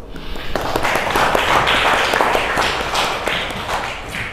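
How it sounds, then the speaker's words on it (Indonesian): Students in a classroom applaud together, a loud, close burst of rapid overlapping claps that lasts several seconds and then begins to thin out. "Oke, kasih aplaus."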